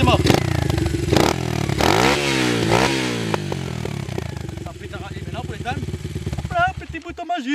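A KTM RXF motocross bike is kick-started and fires on the first kick, its single-cylinder engine revving up loud and close, then settling into a rough, blipping idle.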